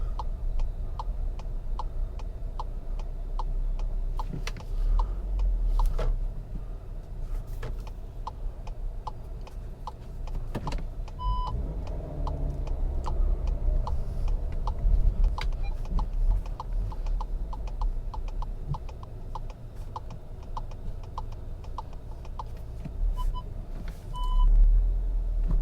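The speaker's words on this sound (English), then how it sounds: "the car is trying to park itself on its own" A 2023 Skoda Kodiaq SUV parks itself, with faint reversing beeps ticking at intervals over a low engine and cabin rumble, plus occasional clicks and thumps.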